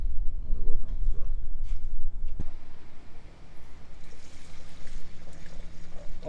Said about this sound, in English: we lost a fair bit of coolant. So we're just replacing it back into the engine